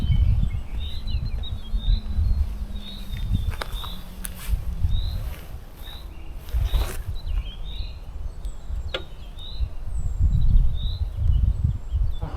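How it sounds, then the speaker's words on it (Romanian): Small birds chirp in the Austrian mountains along the Postalm road, repeated short tweets scattered through a steady low rumble of wind or traffic, with a few sharp clicks and no talking. "ca să auziți doar ciripitul păsărelelor"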